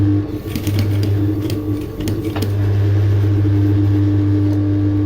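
A sewing machine stitches an off shoulder bustier at a slow, steady pace, its motor humming loudly and close with faint clicks on top and no talk.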